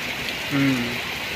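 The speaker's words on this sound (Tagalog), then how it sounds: "Lalo na pag ganito ang lakas ng ulan mga idol oh" A steady wash of heavy rain hisses continuously, and a voice speaks briefly over it.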